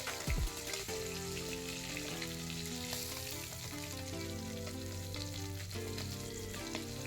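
Hilsa fish pieces fry in hot oil in a pan for a Bengali fish curry, a steady hiss and sizzle running throughout under louder background music.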